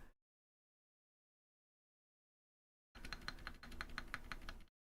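Typing on a silenced mechanical keyboard with Outemu Honey Peach V2 linear switches, a rapid close run of muted key presses after a brief silence.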